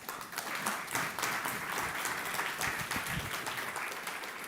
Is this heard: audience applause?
yes